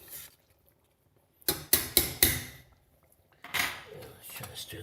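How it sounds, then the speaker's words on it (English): Clanking and scraping from a pot of medieval-style stew with carrot, onion and beans being stirred, in several sharp bursts separated by pauses, close and fairly loud. "Let's try to stir this up."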